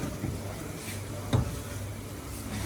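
Nigerian puff puff dough balls fry in hot oil with a steady, close sizzle and a brief clink of a utensil partway through.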